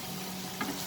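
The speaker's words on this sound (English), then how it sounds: "increase the flame and we will saute this for 3 minutes over high flame" Long beans and chicken sauté in a pan over a high flame, giving a steady, close frying sizzle with a brief stir partway through.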